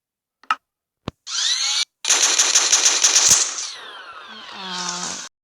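Rapid automatic gunfire from a favourite weapon in Minecraft PE, a loud burst of dense repeated shots after a couple of short clicks, then a fading whirring tail with no talk.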